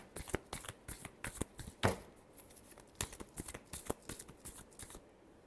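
Tarot cards shuffled by hand, a quick run of crisp, close riffling snaps and flicks, quiet overall with one louder burst.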